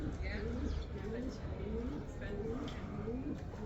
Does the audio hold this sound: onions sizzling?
no